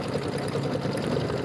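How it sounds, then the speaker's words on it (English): Embroidery sewing machine stitching a holiday rope bowl in the hoop, a steady fast mechanical whir with rapid needle rhythm, close and fairly loud. "You had to slow your machine way down and do all of that."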